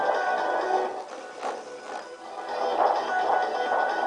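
Music playing steadily through a homemade loudspeaker built from a plastic tupperware container, held up off the surface, moderately loud and continuous with dips and swells.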